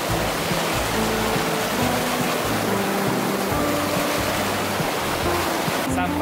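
A river stream flows beside a rainy-season mountain hiking trail on Gunung Tandikek, giving a steady, continuous rushing wash close by, with faint voices under it.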